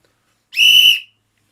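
A single sharp referee-style whistle blast, loud and close, a clean shrill tone lasting about half a second and then silence.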